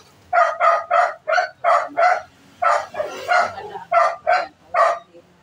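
Dogs bark in a rapid series of about a dozen loud, close barks, with a brief pause midway and a few overlapping yelps.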